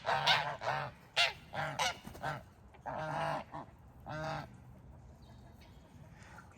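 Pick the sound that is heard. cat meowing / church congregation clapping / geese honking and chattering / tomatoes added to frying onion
geese honking and chattering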